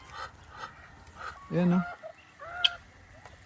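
Turkeys and geese call after feeding, with a few short honks and clucks, the loudest in the middle. Someone speaks intermittently around them.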